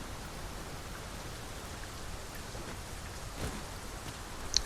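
Steady broadband rain falls across an outdoor area in the video game Dragon's Dogma II, a constant hiss with no breaks and a faint brief tick near the end.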